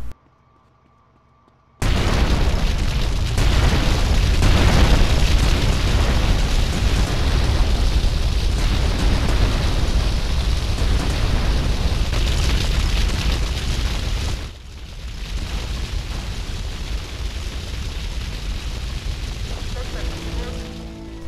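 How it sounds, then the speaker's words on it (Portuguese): A gang headquarters blows up in GTA Vice City, a loud sustained roar of blasts and crackling debris after a brief quiet start, dropping to a lower rumble near the end. "agora é só assistir a explosão."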